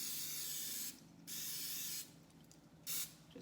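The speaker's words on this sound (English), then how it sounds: "Just from me spraying it over the pan, I mean." Cooking spray hisses onto a baking pan in three short bursts, each about a second long, close and steady with brief quiet gaps between them, alone without talk.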